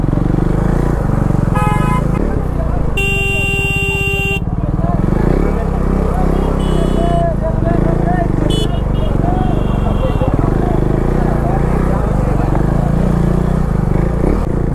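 KTM Duke 390 motorcycle engine running after a hard start near Marsalli hill, a steady close rumble under ongoing talk, with a few sharp horn toots from passing traffic.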